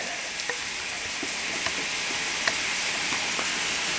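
A balsamic-glazed pork chop frying and caramelising in a hot pan, a steady bright sizzle with scattered small pops and crackles, close and continuous with no talk.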